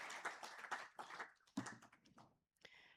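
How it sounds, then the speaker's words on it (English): Live audience at a winter school conference session clapping for a gold sponsor's team, a burst of applause in short waves with quick hand claps, trailing off toward the end. "Another round of applause for our FBC team."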